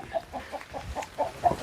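Chickens at a chicken farm cluck in short, repeated bursts, close by and fairly soft, with a rhythmic pattern of calls over a quiet background.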